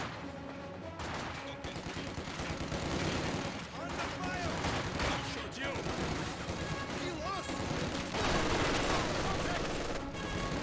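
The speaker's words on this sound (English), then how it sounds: "MG42 firing away, hitting the combat or the conscript squad." MG42 machine gun fire in the video game Company of Heroes 2, dense rapid bursts mixed with other battlefield gunfire, continuous and fairly loud under a commentator's speech.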